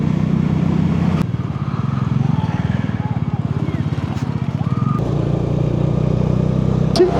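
A motorcycle climbs a high mountain road near Zoji La on the Srinagar to Kargil route, its engine throbbing steadily and loudly throughout, with wind noise and a rider talking over it.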